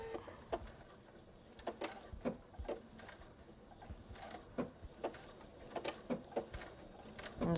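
A sewing machine running a blanket stitch on a pillow project, irregular quiet clicks and short mechanical bursts as the needle works slowly around small appliqué pieces, with no talking.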